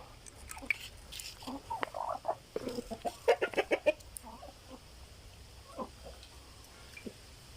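Several free-range village chickens cluck in short, irregular bursts inside a netted pen, with a quicker run of clucks in the middle, heard fairly close against a quiet outdoor background.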